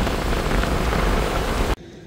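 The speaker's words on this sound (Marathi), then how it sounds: "आता पण पडतोय पाऊस" Heavy rain pours steadily on a morning motorcycle ride from Mumbai to the Konkan coast, a loud dense hiss that cuts off abruptly near the end, leaving a quieter backdrop.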